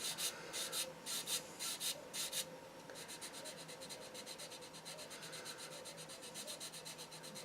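Quiet rhythmic rasping of a sanding stick rubbed back and forth on a Tamiya Calsonic Skyline model kit, a few slow strokes followed by a quicker, even run of short scrapes.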